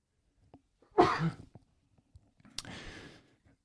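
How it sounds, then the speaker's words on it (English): A single close sneeze bursts out, followed moments later by a softer breathy exhale or second sneeze in an otherwise quiet room. "I'm going to sneeze."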